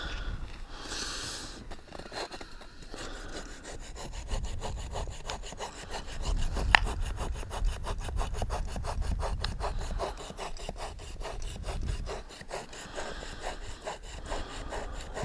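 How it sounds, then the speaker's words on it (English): A hand saw cuts through a firewood log outdoors in winter snow, with fast, steady rasping back-and-forth strokes that run nearly continuously, close and moderately loud. "We're almost done sawing this and we're going to take it back."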